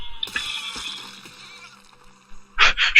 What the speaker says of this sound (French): il y a un canon à eau qui est juste là